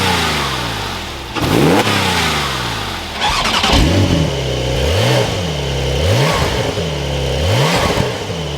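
A manual Porsche 911 Carrera cranks and fires, then is blipped through a series of repeated revs that rise and fall in quick succession, loud and close with no talking.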